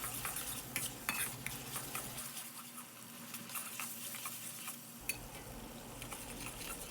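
A sauce seasoned with brown sugar, salt and sesame oil is stirred in a pan for mapo beancurd, soft continuous scraping and light clinks over a faint sizzle, with no talking.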